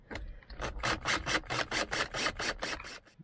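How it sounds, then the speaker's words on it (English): About a dozen rhythmic rasping strokes, close up, as screws for a small cable organiser are turned into wood by hand. Each stroke is a short gritty scrape. "I've just screwed them in now."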